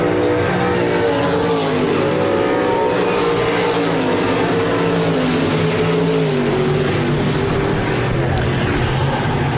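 RaceSaver sprint cars race a heat at Park Jefferson Speedway, their engines a loud, continuous high whine that rises and falls in pitch as the pack circles, with a voice faintly underneath.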